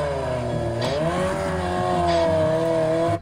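Motorbikes revving and riding on a street, their engines holding a loud, steady droning whine with rising and falling pitch for about three seconds before cutting off abruptly.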